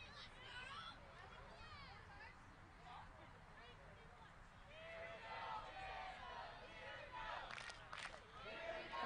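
Spectators at a Black Pandas vs TCQC quadball match at USQC23 chant a rhythmic Here We Go Pandas cheer from one side, voices blending into a steady crowd roar with general babble underneath.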